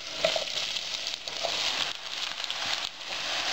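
Peeled apples frying in browned butter in a saucepan, a soft, continuous sizzle with scattered light crackles, fairly faint and close, with no talking.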